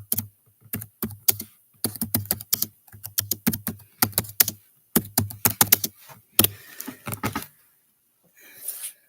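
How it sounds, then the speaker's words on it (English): Rapid clattering keystrokes on a computer keyboard come in quick bursts with short pauses, close and fairly loud, tapering off near the end. "typing is a pain in the ass when you're far away"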